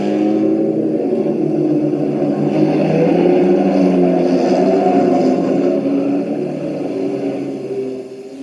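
A car pulling away in a radio drama, a loud low engine rumble that swells and then slowly eases off as it drives away.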